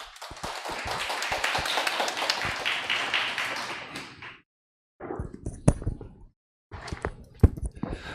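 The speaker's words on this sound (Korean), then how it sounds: "이장훈 노무사님을 큰 박수로 모시겠습니다." An audience at a Korean labor-attorney exam information session applauds to welcome a labor-law lecturer: about four seconds of dense, steady clapping that then stops, followed by scattered brief knocks and shuffling sounds.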